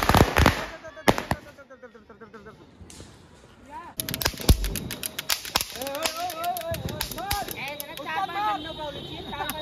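Diwali firecrackers burst in a dense series of sharp cracks and pops, starting with scattered loud bangs before a rapid crackling string takes over, with voices talking and shouting throughout.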